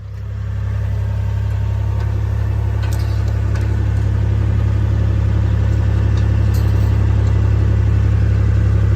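Tractor engine running while raking hay in a field, a steady loud low drone with a constant mid-pitched mechanical hum and faint rattles, continuous throughout with no voices.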